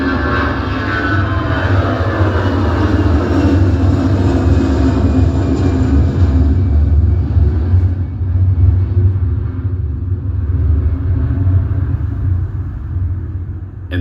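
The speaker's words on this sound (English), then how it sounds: "reproducing the exact position of an airplane as it passes by, from taking off to flying directly overhead and finally disappearing above and behind" Airplane taking off at an airport and passing directly overhead, a loud sustained low engine roar with broadband rush that swells, holds steady, then slowly fades as it recedes behind.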